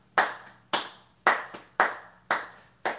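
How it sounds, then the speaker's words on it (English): Hand clapping during a children's library music session, six crisp, loud claps in a slow, roughly even beat, each one sharp with a short ring, with no talking. "Take your hands and you clap."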